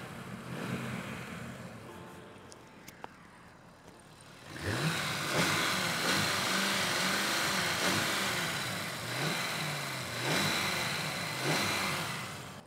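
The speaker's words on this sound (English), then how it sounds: "Not super powerful sound of the engine, but it's smooth." A Lamborghini Urus engine cranks and fires up, settling into a steady, smooth idle with slight swells in revs, heard close and fairly loud after a few seconds of quiet background noise.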